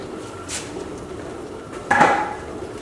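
A metal pot clanks and knocks against a sink as noodles are drained, with a brief soft clatter early and a louder, ringing metallic bump partway through.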